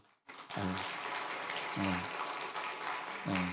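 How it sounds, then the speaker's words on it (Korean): Church congregation clapping to encourage a missionary couple standing during a Sunday worship service, sustained dense applause with a low voice or murmur breaking through at intervals. "이 격려의 박수가 얼마나 힘이 됩니까?"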